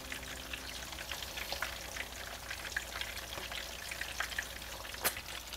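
Meatballs sear in oil in a pan, producing a soft, steady crackling sizzle with scattered small pops and one sharper spit near the end, heard alone at a modest level.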